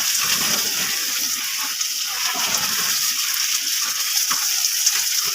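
Water spraying to soak a mushroom growing house, a steady, close hiss of spray and splashing that runs on without pause.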